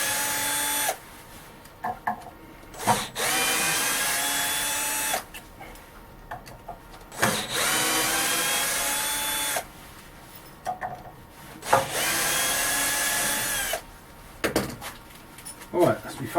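A power tool whirs in short bursts while unscrewing a faceplate from a resin bowl on a woodturning lathe, each burst separated by pauses and clunks, fairly close in a workshop.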